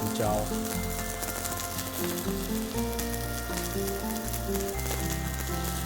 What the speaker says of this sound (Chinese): 年糕先让它煨煮